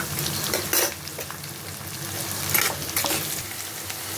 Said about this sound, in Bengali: এগুলো আমার হাফ ভাজা হয়ে গেছে, পেঁয়াজ আর ক্যাপসিকাম